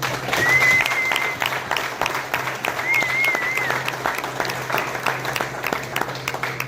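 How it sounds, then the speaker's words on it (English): Applause fills a room at a high school tennis banquet, steady clapping from a crowd that holds for several seconds at a fairly loud, even level with no speech over it. "And that deserves a huge round of applause."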